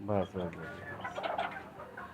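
Chickens, including an Indonesian breed, cluck and squawk on a poultry farm, a quick burst of close calls followed by softer, mixed clucking, fairly quiet overall.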